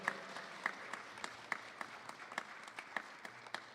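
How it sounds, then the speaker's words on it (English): Soft applause from a church congregation during a Sunday service for a birthday, quiet and somewhat distant, with a few individual claps standing out in an irregular rhythm. "Please give him a big round of applause"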